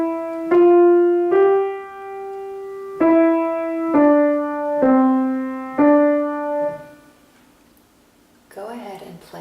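Piano playing measures 4 and 5 of the beginner song Little Black Lamb: a slow, even run of about seven single clear notes, each ringing until the next, close and alone, followed by a short noisy rustle at the end.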